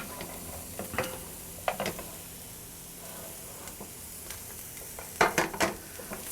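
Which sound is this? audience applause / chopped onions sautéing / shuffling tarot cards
chopped onions sautéing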